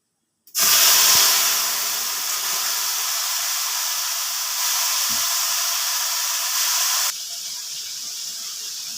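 Raw green mangoes tipped into hot oil with asafoetida for pickle, setting off a sudden loud, steady sizzling hiss that runs for several seconds and then drops to a quieter fry, close up, no voices.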